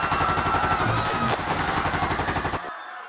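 Pistols and guns firing as a comic-style sound effect: rapid, dense bursts of gunfire rattling continuously for over two seconds, loud and close, then cutting off abruptly into near silence.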